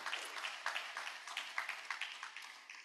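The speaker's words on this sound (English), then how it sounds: "So give yourselves a round of applause." Members of a Rotary club meeting applaud themselves, a faint, fairly sparse round of clapping from a small group, individual claps distinct and quickly tapering off.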